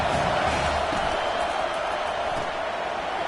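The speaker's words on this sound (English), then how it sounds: "This crowd rising up, sensing that his defense needs some help." A college football stadium crowd at a Longhorns game roars in a steady, dense wash of cheering that holds at a constant loud level throughout.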